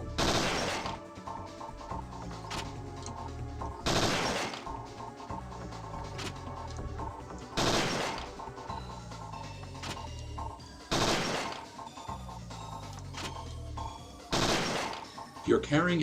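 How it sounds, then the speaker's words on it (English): Three-round burst gunfire from a weapon in Parasite Eve 2. Five loud, sharp bursts come at regular intervals of roughly three to four seconds over a soft game background. "We're going to be using the 3-round burst most of the time."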